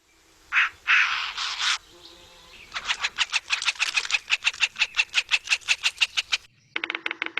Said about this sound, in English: So you can see that's a Williamson sapsucker, and it makes that kind of jit, jit, jit sound.